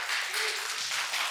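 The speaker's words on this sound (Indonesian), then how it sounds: "Tepuk tangan" A roomful of participants at a growth mindset training session breaks into brief applause, a dense, even wash of clapping hands that stays loud and steady throughout the short burst.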